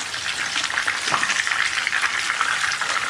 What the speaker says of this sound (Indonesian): Kita siapkan wajan, terus kita goreng ayamnya sampai nanti ayamnya berwarna kecoklatan